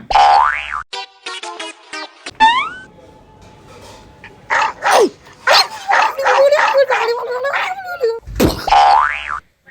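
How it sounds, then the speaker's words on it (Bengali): A dog yips and barks in a short run of high, excited bursts in a comedy sketch, mixed with cartoon boing sound effects at the start and end and brief talk. "এই কুকুরটা"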